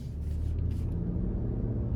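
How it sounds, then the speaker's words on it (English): A 2025 Lexus GX 550 rolls over a torn-up road under construction, heard from inside the cabin as a steady low rumble of tires and engine, with a few faint knocks and no speech. "starting the test drive in this GX 550 here, ride quality is actually pretty decent"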